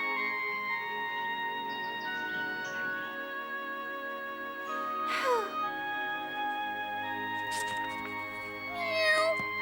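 A cat meows several times at close range, the calls rising and falling, set against a steady bed of tonal background music.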